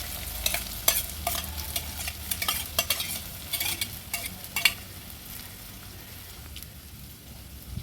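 Two medium chopped onions dropped into hot oil with a bay leaf on a wood-fired chulha, crackling and sizzling loudly at first with spoon scrapes and stirring clatter, then settling into a steady softer fry.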